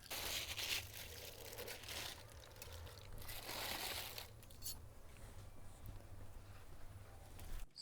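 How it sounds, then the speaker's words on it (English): Slow cooked BBQ pork ribs being unwrapped close by: continuous crinkling and rustling of the wrapping, with louder crackly bursts early on that settle into softer handling noise. "We will unwrap our ribs."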